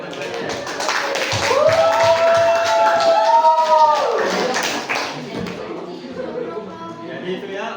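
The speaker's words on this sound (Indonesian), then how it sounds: "Beri tepuk tangan dulu untuk teman-temannya." Classmates in a classroom applaud together, a dense patter of clapping mixed with voices and a teacher talking over it before the clapping fades out.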